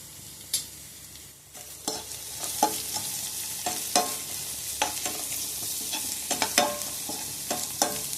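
Asafoetida is stirred into sambar in a hot pan, with a steady sizzle of frying under repeated sharp scrapes and taps of the spoon against the pan, and no voices.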